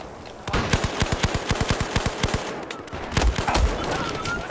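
Battlefield 4 multiplayer combat on the Pearl Market map: a fast, steady train of loud shots, then a few heavier booming blasts near the end, like grenade launcher rounds landing amid ongoing fire.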